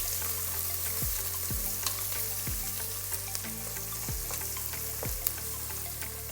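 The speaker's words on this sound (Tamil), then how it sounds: "வெங்காயம் நமக்கு நல்லா பொன்னிறம் ஆகிற வரைக்கும் வணக்கிக்கலாம்" Onions sauté in hot oil for chicken biryani, giving a steady close sizzle, with periodic low thuds and scrapes of a spatula stirring the pan at roughly one-second intervals.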